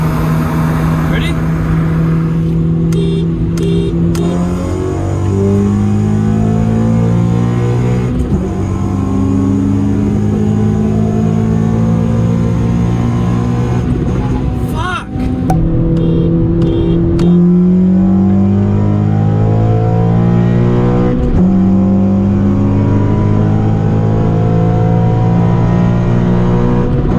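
Two Honda Civic Si cars, a 9th gen and an 8th gen with FBO modifications, rev hard and accelerate through repeated gear changes in a race, engine pitch climbing and dropping in waves while people talk over the roar.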